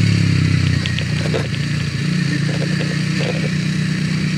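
A Kawasaki W230 motorcycle cruising on an autumn road, its steady low engine drone running continuously at close range with wind noise layered over it, no voices.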